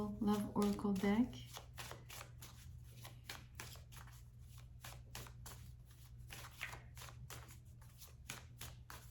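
An oracle love card deck being shuffled, heard as a run of quick papery riffles and flutters close by, with voices speaking faintly at the start.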